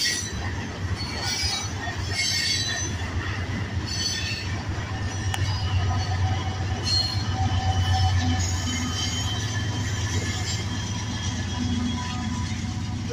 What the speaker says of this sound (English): We got a DPU pulling up the rear.